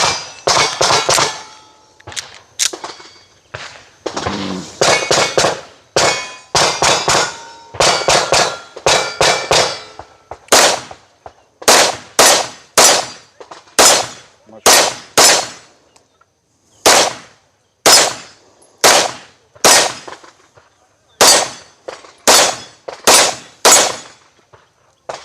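A Kimber KDS9C 9mm pistol fires through a magazine outdoors, loud sharp reports in quick strings and then spaced single shots, close to the listener.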